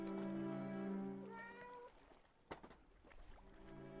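A cat in a horror adventure game meows twice in quick drawn-out cries, close and clear, followed by a sharp knock and faint background ambience.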